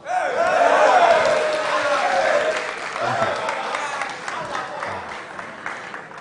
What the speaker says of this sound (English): Ladies and gentlemen, please, another round of applause for Dr. Richard Bamfo.